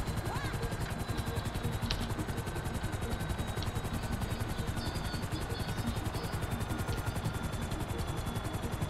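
Helicopter in the video game GTA 5, a steady, loud, rapid rotor thump and engine drone that holds throughout without any break.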